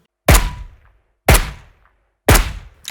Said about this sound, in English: This is just a regular gunshot